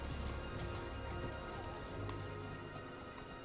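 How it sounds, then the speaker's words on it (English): Hoofbeats of a horned, goat-like horse mount trotting in the video game Elden Ring, a steady clip-clop rhythm under constant game background noise and low rumble. "It's a goat horse, dude."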